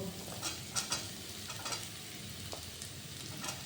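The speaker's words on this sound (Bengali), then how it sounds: "আচ্ছা, পেঁয়াজটা একটু হালকা ব্রাউন হয়েছে, এই সময় ক্যাপসিকামটা দিয়ে দেব।" Chopped capsicum sizzles and fries with lightly browned onions in a pan, a steady crackling hiss broken by scraping stir strokes, close and fairly loud.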